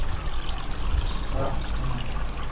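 Water flows steadily through a small motor-driven decorative Nandi waterfall, a continuous close trickling and splashing with a constant low hum beneath it.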